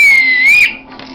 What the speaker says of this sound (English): Have a little listen. This is the whistle,